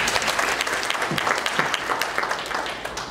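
An audience gives steady, dense applause for a national youth cricket team, a continuous wash of clapping at even loudness with a faint voice beneath it.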